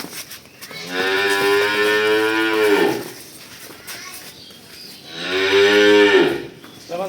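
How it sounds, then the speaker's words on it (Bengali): Very large dairy cow that gave over 30 litres of milk, now pregnant, lowing in two long, loud, close moos separated by a short pause. "একদম হাতির মতন একটা গরু দেখাবো"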